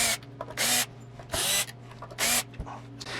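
A power screwdriver on a Squier Debut Telecaster backs out the neck screws in three loud, close bursts, with short quiet gaps between them and a few faint handling clicks.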